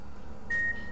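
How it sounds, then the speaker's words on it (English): A single electronic beep from a machine or mechanism in the Penumbra Black Plague video game sounds steady and fairly loud for a fraction of a second over a low ambient hum. "Beep."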